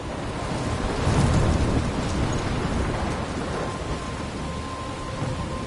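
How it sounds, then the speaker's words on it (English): Storm in the Life is Strange video game: steady heavy rain hiss with a deep rumble of thunder swelling early on, then continuing downpour, no voices. "I'm trapped in a storm?"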